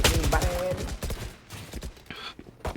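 Rapid gunfire in the video game Valorant, bursts of close, loud shots packed into the first second, then sparser shots and game effects with someone talking faintly over them.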